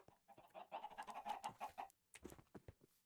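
Chickens cluck in a video game, a faint run of rhythmic clucks that settles into a brief pause before a few softer scattered clucks and thumps follow.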